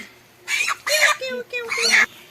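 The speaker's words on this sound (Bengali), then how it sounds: "বন্ধুরা এই মুরগিটাকে এবার কেটে নিচ্ছে" Loud, close bursts of a chicken clucking and squawking just before being slaughtered, in several short rapid outbursts, with brief pauses between them.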